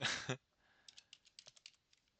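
Typing on a computer keyboard whose battery may be running low, a quick run of about a dozen light, crisp key clicks following a brief louder sound, close and faint, with no talking.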